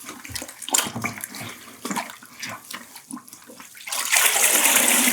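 A grout sponge used on epoxy grout is sloshed and rinsed in a wash bucket of water, with close splashing and dripping that builds into a louder rush of water at the end, with no talk.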